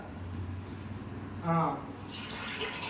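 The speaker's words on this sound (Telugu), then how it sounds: "నీళ్ళు అయితే పోస్తున్నాము" Water pours into a rice cooker holding rice, a broad rushing splash building in the second half, close and moderate, with a brief voice just before it.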